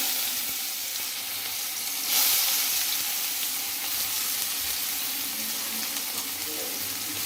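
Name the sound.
onions frying in hot oil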